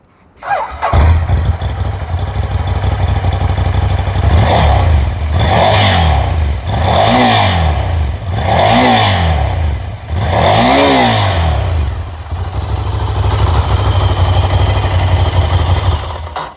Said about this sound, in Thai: ขอฟังเสียงเครื่องหน่อยครับ